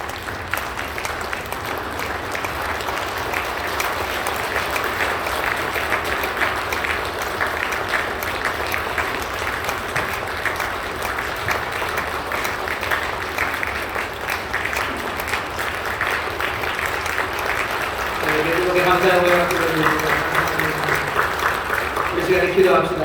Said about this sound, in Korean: 뜨겁게 박수로 하나님의 앞에 영광 올려드릴 때